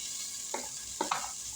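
Pre-cooked seasoned taco meat going into a pan of vegetables, giving a steady soft sizzle with a few scraping, stirring clatters of a utensil against the pan.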